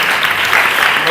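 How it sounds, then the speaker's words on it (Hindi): Loud, steady clapping from a group of children in a gurukul classroom, dense and continuous for about a second without talk. "एक बार सबके लिए ताली बजाइए।"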